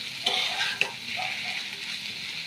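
Brinjal, potato and egg fry together in a pan for an Assamese dish, giving a steady, moderately loud sizzle with a couple of sharp pops near the start and no talking.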